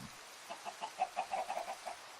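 A run of quick, soft clucks from a chicken in the video game Craftamari over a steady background hiss, rising and fading in a short burst.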